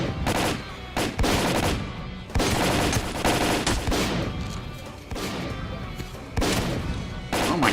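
AK rifle fire in S.T.A.L.K.E.R.: Call of Pripyat, with loud sustained automatic bursts broken by short pauses, dense and close, repeating over several seconds.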